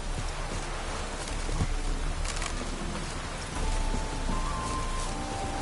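Steady rainfall in The Witcher 3: Wild Hunt, a dense even hiss of falling rain with faint drop detail and a slight swell partway through, with no talking.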